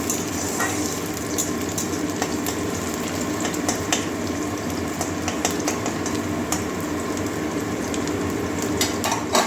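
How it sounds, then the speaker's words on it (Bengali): Sliced onion, green chili and nigella seeds sizzle steadily in hot oil in a pan, a continuous dense crackle with no talking, as the base of a Bengali potato, cauliflower and carrot fry. "আমার পেঁয়াজ কাঁচা লঙ্কা কালো জিরে ভাজা হয়ে গেছে"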